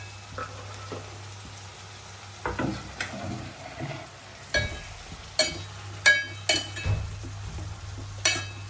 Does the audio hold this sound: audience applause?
no